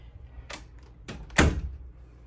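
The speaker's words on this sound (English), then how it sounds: "I'm gonna shut the door" An interior door is pushed shut in a home makeup and beauty studio, giving a single solid thunk after a couple of softer handling sounds, close by and with no talking.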